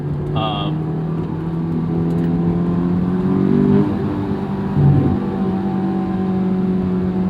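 A 2008 Honda S2000 AP2 engine revs hard while being driven, heard from inside the cabin: a loud, rising, tonal engine note that climbs and then eases, with brief shifts in pitch between pulls.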